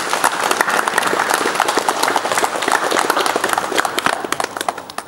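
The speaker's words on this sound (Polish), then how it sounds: "Prosimy o brawa." A crowd at a village Firefighters' Day ceremony claps steadily and heavily for several seconds, with individual sharp claps poking through the dense applause as it gradually tapers.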